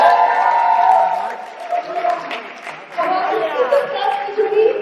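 A studio audience on a couples reality show claps and cheers for a pair being introduced, a steady wash of applause and crowd noise running throughout, with some voices mixed in.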